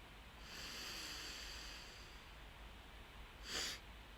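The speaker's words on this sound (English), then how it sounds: "take a sharp inhale into your belly, and then you top it up with a small second inhale like this" Someone breathes in through the nose in a long drawn inhale, then a short sharp top-up sniff, both close and quiet against a hushed room.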